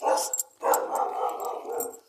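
A dog barks twice in short, fairly loud bursts, the second bark drawn out with a whining tail, with no talk over it.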